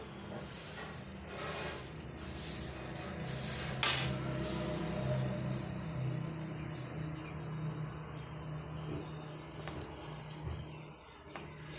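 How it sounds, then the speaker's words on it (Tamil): Tamarind rice (puliyodharai) is stirred in a pot nearby, with soft scraping and a cluster of spoon-on-metal clinks, busier at the start and quieter later. "இப்போ பாருங்கள் இது போல் நம்ம சேர்த்து விட்டுக்கிட்டு கிளறி கொடுத்துக்கலாம்"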